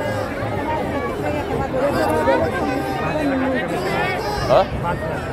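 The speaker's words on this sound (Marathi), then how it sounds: "पालखी गेलेली आहे पण अजून पण लोकांची गर्दी बघा, अफाट गर्दी अफाट." A huge crowd of pilgrims mills around at Alandi after the palkhi procession has left. Dense, steady babble of many voices and footsteps fills the scene, close and continuous, with a brief louder shout near the end.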